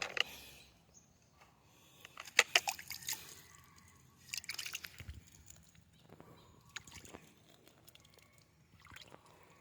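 Melon seedlings are watered by hand, giving scattered drips, squishy splashes and sloshing bursts at irregular intervals, faint and close with quiet gaps in between.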